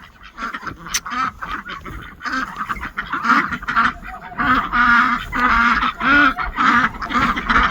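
Ducks gathered by a duck ramp under a new porch roof keep up a loud, close run of quacks and honks, the calls overlapping in bursts and swelling toward the end, with no speech.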